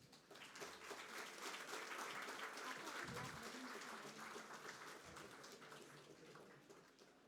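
Audience applause at a ceremony during an industry and semiconductor panel event, a sustained soft wash of clapping from a crowd at moderate distance, fading slightly toward the end, with faint voices underneath.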